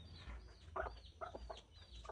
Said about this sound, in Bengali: বাইরে যে মোরগটা দেখতেছেন এটা ফার্মে মোরগ।